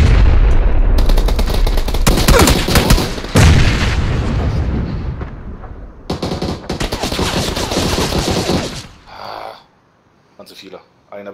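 Explosions and rapid gunfire in a PUBG squad match, dense loud bursts and booms packed close together, easing off into scattered shots and quiet near the end.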